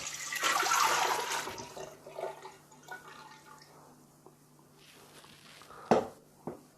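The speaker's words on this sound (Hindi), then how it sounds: "तो अब मैं पहले वाली हांडी में दोबारा सारे जो चाशनी है उसको डालूँगा।" Sugar syrup for a sour-sweet plum chutney is poured back into a cooking pot (handi), a short rushing pour up front followed by trickles, drips and a couple of light knocks in a quiet kitchen.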